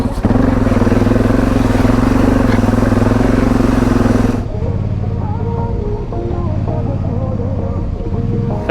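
A motorcycle revs hard on a muddy Trans Euro Trail route in the Netherlands, its engine loud and close and holding a steady high drone before the tone suddenly drops and it keeps rumbling.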